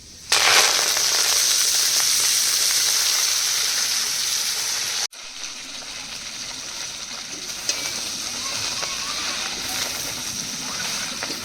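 Jute leaves tossed into hot oil with garlic, frying with a loud sizzling hiss that spikes as they go in, drops sharply halfway, then continues as a softer crackling sizzle.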